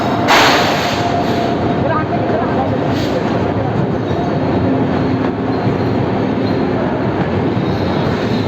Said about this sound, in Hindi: तो अभी हम लोग का ट्रेन आ चुका है बर्धमान के प्लेटफॉर्म नंबर 2 पर।